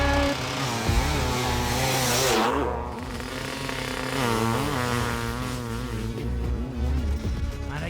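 Kawasaki dirt bike engine screaming at high revs off a hot start in a drag race, loud and sustained, with harmonics sweeping up through gear changes and a second bike droning alongside.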